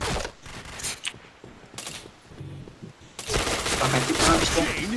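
Gunfire from a shooting video game, rapid bursts of shots that start sparse and broken, then swell into a dense, loud, continuous barrage over the last seconds.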